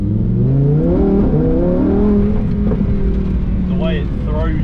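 A supercar accelerates hard from inside the cabin, engine note climbing through rising revs with a gear change partway, loud and close and continuous.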